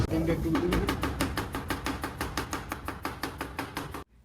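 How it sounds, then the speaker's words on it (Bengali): Onions chopped fast on a board by Saidul bhai in a kitchen, with a rapid, steady run of close, sharp knife strikes that stop abruptly at the end. "আমাদের সাইদুল ভাই খুবই তাড়াতাড়ি করে পেঁয়াজ কাটা শুরু করছে"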